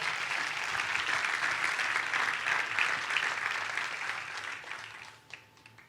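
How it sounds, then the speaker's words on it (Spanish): A church congregation claps steadily in sustained, fairly loud applause that tapers off near the end. "Denle un fuerte aplauso a Dios por eso."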